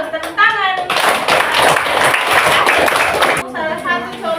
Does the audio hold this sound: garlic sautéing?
no